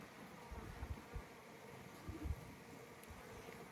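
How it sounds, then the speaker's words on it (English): Honey bees buzz continuously around an apiary hive during an inspection of a hive with added second brood boxes, a soft, steady drone with small close swells as individual bees pass near. "Bees on there."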